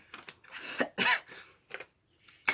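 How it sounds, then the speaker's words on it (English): A few short, quiet coughs in quick succession, close and dry, with brief pauses between them. "I'm coughing."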